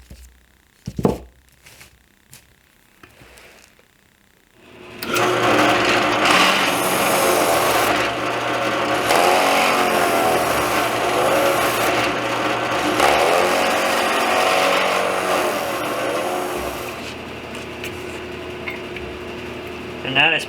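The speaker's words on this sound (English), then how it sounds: "I'll drill a hole for that to fit in there." A power drill bores a hole in a workshop, starting after a few faint knocks and running as a loud, sustained grinding whir for about twelve seconds before stopping.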